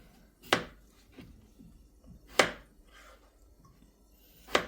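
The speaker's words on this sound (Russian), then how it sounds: "картошку можно порезать вроде бы рандомными способами" Potatoes chopped on a board with a knife: three sharp, distinct chops spaced a couple of seconds apart, close and fairly loud, with faint softer knocks between them and no talking.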